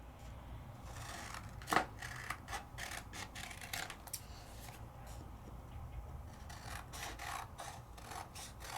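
Scissors snipping away excess material around a die-cut piece in a craft session, giving a steady rasping, scratchy texture with one sharper snip near the start, close and fairly quiet with no talking.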